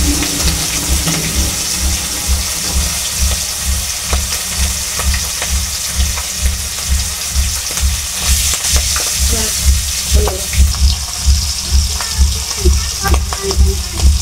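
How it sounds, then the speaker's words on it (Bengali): Hilsa fish frying in hot oil, a steady close sizzle with bursts of crackling and spatter that swells and fades in a rhythmic pulse, heard alone without talk. "ভাজাগুলো হচ্ছে"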